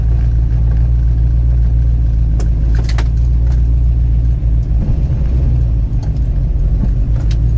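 A newly installed car engine idles steadily with a low rumble and a slightly uneven, stumbling misfire rhythm, close by, with a few faint clicks and rattles.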